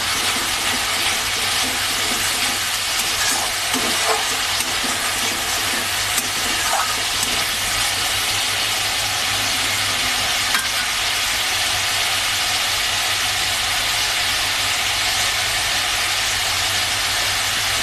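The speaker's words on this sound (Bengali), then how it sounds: "পেঁয়াজটা ভাজা হয়ে গেলে আমি দিয়ে দেব রসুন বাটা আর আদা বাটা" Onion fries with garlic and ginger paste in hot oil for a dhaba-style chicken bharta, giving a dense, continuous sizzle that stays loud and steady with a few faint clinks of stirring.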